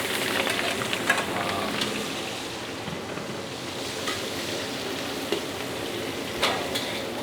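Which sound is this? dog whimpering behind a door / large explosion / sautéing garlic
sautéing garlic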